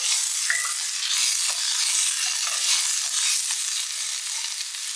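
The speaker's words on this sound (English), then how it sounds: "saute for about 30 seconds" Onion and garlic sizzle steadily in a hot pan over medium-high heat, a bright continuous frying hiss with faint scraping stirs, close and unbroken for the whole stretch with no talking.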